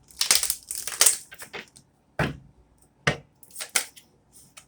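Tarot deck shuffled up close in quick, crisp bursts of riffling and slapping card noise, a dense flurry at first, then separate sharp shuffles with pauses between.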